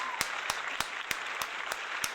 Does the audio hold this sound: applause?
yes